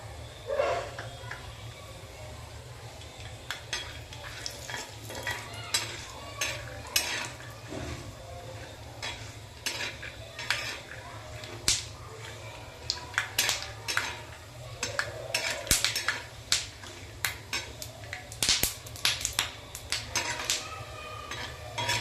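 Peanuts tumble into a spoonful of hot oil on a heated griddle pan, producing a long run of dry rattling clicks and scrapes as they are stirred, with a faint sizzle underneath.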